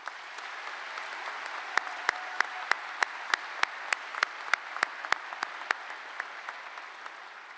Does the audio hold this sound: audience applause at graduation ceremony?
yes